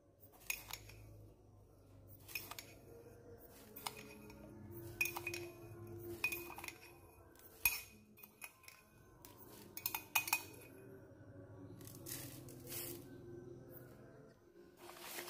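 A spoon stirs sugar into a mixture in a bowl, clinking against the sides again and again in an uneven rhythm, with brief pauses between bursts of scraping.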